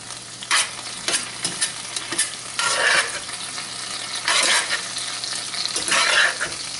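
Garlic sautéing in a hot skillet, with a soft continuous sizzle broken by repeated bursts of stirring and scraping close by.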